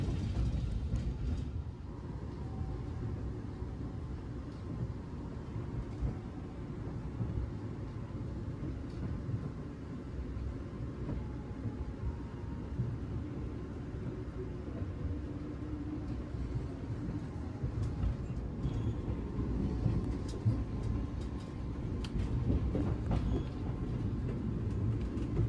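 Continuous low rumble and rattle from inside the Taksaka express train as it meets and passes the Mata Remaja train near Cikampek station, steady and loud throughout with no talk.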